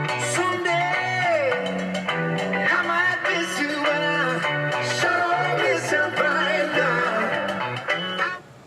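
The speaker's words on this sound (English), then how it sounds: "This thing's got 4 speakers in it, and it really sounds awesome." Music with a melody and steady rhythm plays loudly and continuously from the four-speaker sound system of a 1971 Chevrolet C-10 restomod truck, fading out at the end.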